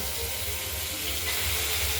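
Oil heats in a wok before prawns go in for frying, a steady soft sizzling hiss that holds evenly for a couple of seconds.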